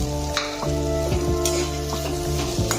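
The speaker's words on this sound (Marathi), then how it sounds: "ही भाजी आपल्याला चांगली परतून घ्यायची आहे" Boiled potatoes with turmeric and salt fry in a hot pan, giving a steady close sizzle while a spoon scrapes and stirs through them in repeated strokes.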